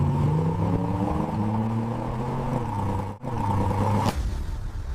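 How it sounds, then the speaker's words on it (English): A V8 engine fitted in a VW Beetle pickup roars and revs loudly and steadily, its pitch rising and falling, with a brief dip and a sharp burst near the end. "A V8 engine, loud and unapologetic."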